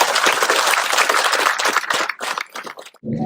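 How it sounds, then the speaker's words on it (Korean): An audience applauds loudly and steadily at a public event in Nonsan, honoring a defense industry company chairman. The clapping thins out toward the end, then a brief tonal sound follows. "우리 코리아 디펜스 인더스트리 정정모 우리 회장님께 여러분 환영과 그리고 고맙고 또 감사한 박수 한번 보내주시지 않으시겠습니까?"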